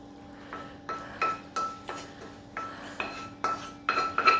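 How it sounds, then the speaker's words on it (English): A utensil scrapes chicken, leek and ham pie filling out of a pan in a quiet kitchen, giving a string of short, distinct scrapes and clinks at an uneven rhythm, close and fairly soft. "Just keep scraping it and get everything in."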